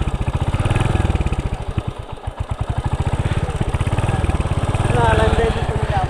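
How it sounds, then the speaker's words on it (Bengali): A Royal Enfield Hunter 350 motorcycle idles after starting, a loud, close, steady thumping engine beat with an even pulsing rhythm, while someone talks over it. "এই গাড়িটা আপনি যখন স্টার্ট করবেন, স্টার্ট করার পরে যে ফিলিংসটা পাবেন, সেটা যে সাউন্ডটা পাবেন"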